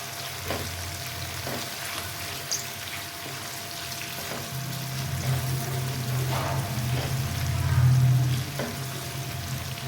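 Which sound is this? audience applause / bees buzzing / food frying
food frying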